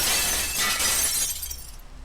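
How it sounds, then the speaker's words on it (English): A pane of glass shatters and breaks in a Minecraft horror mod, a single bright crash that quickly fades into scattered tinkling. "hear the glass breaking"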